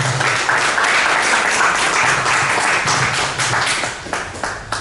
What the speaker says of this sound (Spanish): a quien le recibimos con aplausos